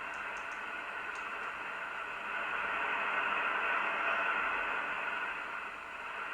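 Static hiss from an SDR receiver tuned to the upper sideband on a poor band. It is a steady, moderately loud wash of noise with a few faint ticks near the start, and there are no voices or signals.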